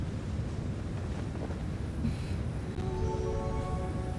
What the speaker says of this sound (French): c'est le vent qui te souffle